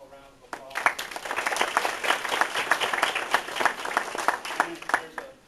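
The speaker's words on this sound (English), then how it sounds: "I think we all should give them one more round of applause." A lively round of audience applause rises suddenly and carries on with busy, crackling hand claps, fairly close and full, fading slightly at the end.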